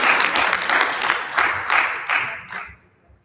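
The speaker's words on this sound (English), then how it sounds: "give him a round of applause" Loud audience applause for the governor at a world tourism summit, a dense burst of clapping that swells in waves and then tapers off into quiet near the end.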